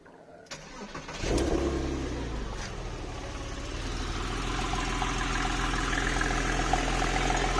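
A Porsche 996 Carrera engine cranks briefly, catches with a roar, then settles into a steady, rumbling idle that continues to the end.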